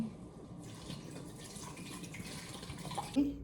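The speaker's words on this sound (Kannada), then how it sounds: "ಸ್ವಲ್ಪ ನೀರು ಹಾಕ್ತೀನಿ." Water pours steadily into a cooking pot at moderate volume on a rooftop, a soft continuous splashing that ends with a brief clunk.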